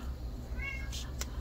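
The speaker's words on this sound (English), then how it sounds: "Sorry, my kitty's hungry." Hungry two-month-old kitten meowing once, a short thin cry rising over faint room noise, fairly quiet and close, with no talking.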